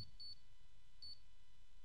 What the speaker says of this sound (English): that beeping is a good sound